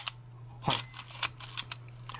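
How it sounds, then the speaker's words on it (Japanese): A Leica R7 film SLR fires its shutter at slow speeds, giving several quiet, crisp mechanical clicks spaced apart over a faint steady hum. "低速のシャッターもご覧の通り"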